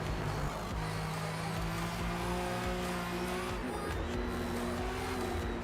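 A Dodge Dart race car in Forza Motorsport roars loudly and steadily, its engine pitch rising and shifting through gears with faint tire squeal, close and continuous with no voices.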